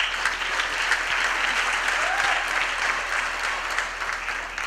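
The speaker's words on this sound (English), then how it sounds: "Please stand up for a big round of applause." A graduation ceremony audience applauds continuously, a dense, even wash of clapping throughout with no one speaking over it.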